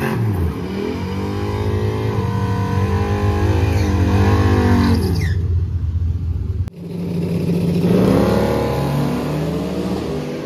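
A truck and an old Chevy rev hard and accelerate in a drag race, loud close engine roars with rising pitch, a sudden cut, then another roaring pass.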